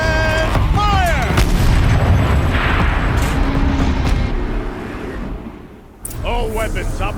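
A gun turret fires in Horizon Zero Dawn, with a loud, sustained rumbling blast that fades after several seconds. Machine whirs and a voice sit underneath it.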